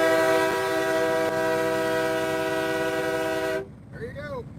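Loud, sustained air horn from a convoy truck on the Washington DC Beltway, a steady multi-tone blast lasting over three seconds before cutting off, followed by fainter traffic and a brief voice.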